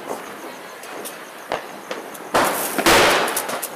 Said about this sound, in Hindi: देखो अनार जला रहा